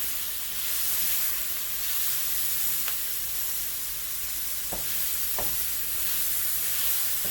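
Onions fry and brown in safflower oil in a pan, giving a steady close sizzling hiss with a few sharp clicks from stirring, and no voices.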